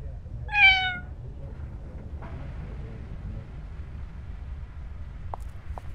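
A cat meows once, clear and fairly close, in a game set on Alcatraz in 1954, followed by quiet room ambience and a couple of faint clicks.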